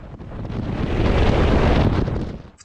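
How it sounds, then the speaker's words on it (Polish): Strong, moderate wind buffets the microphone of a motorcyclist in Wrocław's Ostrów Tumski in a continuous rumbling roar that swells and then eases off toward the end. "Wiatr natomiast jest umiarkowany"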